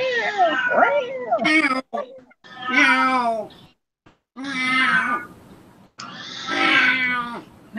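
A cat yowls loudly in four long, drawn-out, wavering cries separated by short silences, close to the microphone and alone with no talking.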